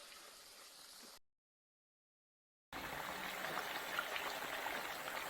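Lentil rice bites sizzling in a frying pan, a soft, steady hiss and crackle that breaks off into a gap of silence and then comes back a little louder.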